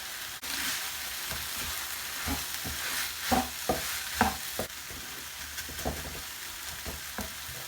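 Vegetables with a pinch of turmeric stirred in a frying pan for fried rice: a steady soft sizzle with repeated scraping, clacking spoon strokes, close and fairly loud, no voices.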